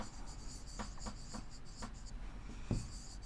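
A pen or marker writes on a board, making faint short scratchy strokes in a quiet classroom-like room, and a soft tap comes near the end.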